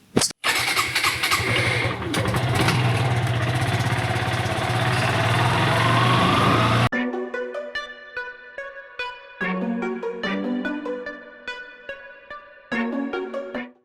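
A motorcycle engine at the start of a long ride to Rangpur, with steady broadband engine and road noise for about seven seconds, then cutting to a clear, loud tonal passage that is probably music.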